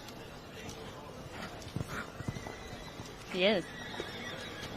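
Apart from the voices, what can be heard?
horses galloping in show ring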